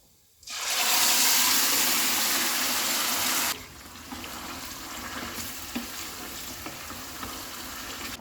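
Mutton pieces dropped into hot oil with whole spices for a biryani burst into a loud, steady sizzle that holds for a few seconds, then settles to a quieter crackling fry with occasional pops.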